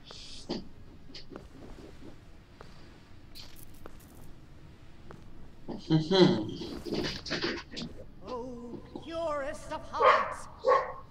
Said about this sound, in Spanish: Toma el perro vecino, de verdad.